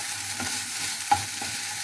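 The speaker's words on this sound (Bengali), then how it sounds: "ভাত ভাজায় দিয়ে দিচ্ছি এখানে সামান্য পরিমাণ তেল লবণ" Cooked rice being fried in a pan with a little oil and salt gives a steady soft sizzle, with a few brief scraping stir strokes and one sharper clink near the end.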